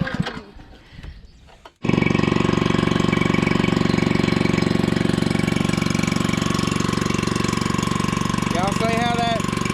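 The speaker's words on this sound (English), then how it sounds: "See if we can't get the old pump to start." An old farm pump engine mixing fertilizer starts up after a quiet moment, then runs steadily and loudly with a constant drone to the end, a brief squeal near the finish.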